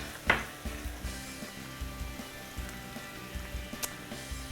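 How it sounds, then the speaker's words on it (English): Cauliflower sautés in a pan with salt and pepper for Sicilian cooking, giving a soft sizzle under repeated light scraping and tapping strokes of a utensil, fairly quiet and close. "we're cooking now, sauteing that all together"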